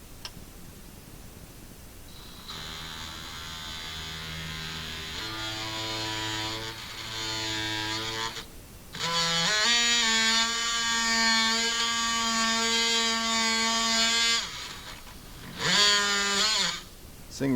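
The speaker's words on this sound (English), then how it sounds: "I'm going to use a multi-tool for that." Oscillating multi-tool cutting an opening for a rear view mirror mount, a buzzing whine that starts, stops and restarts in several bursts, rising in pitch and strength during the longer middle cut, loud and close.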